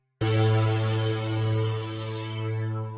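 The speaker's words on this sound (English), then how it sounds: "those chords just sound like this." Sustained synth chords start abruptly and ring out loud and bright, their upper harmonics gradually dulling as a filter sweeps downward across the held notes.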